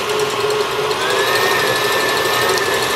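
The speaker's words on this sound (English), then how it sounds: "it's very easy to over whisk egg whites when it's in an electronic contraption" An electric mixer whisking egg whites, its motor giving a steady, continuous high whir that stays loud and unbroken throughout, with no talking.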